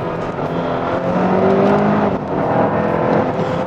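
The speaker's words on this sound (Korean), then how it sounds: "꽤나 강력한 엔진음이 들어옵니다." A Hyundai Sonata N-Line sports sedan's 290-horsepower engine revs hard and steadily in Sport Plus mode, heard from inside the cabin with active sound control off, a loud, throaty drone that swells and holds with no talking over it.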